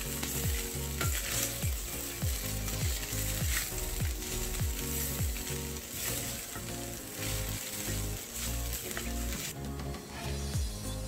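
Poha being gently stirred in a hot pan, giving a steady close sizzle with repeated scraping strokes of the spoon throughout.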